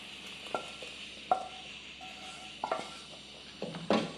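A spoon clinks and scrapes against a pot while beef curry is stirred, giving a few sparse metallic taps and clatters over a faint background hiss.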